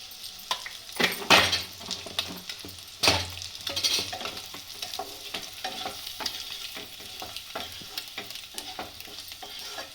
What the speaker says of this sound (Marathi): आता अंडे चांगले फ्राय करून घेते.